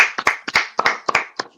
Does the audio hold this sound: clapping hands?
yes